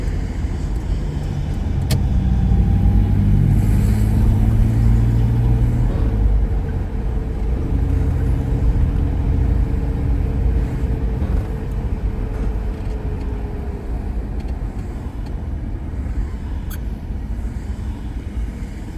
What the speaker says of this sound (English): The traffic is too much in Richmond.